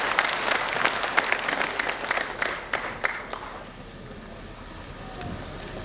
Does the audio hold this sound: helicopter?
no